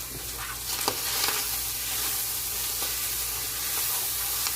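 Sofrito and mojo being stirred in a hot pan, with a steady close sizzle, brief scraping strokes of the spoon and a hiss of steam, no voices.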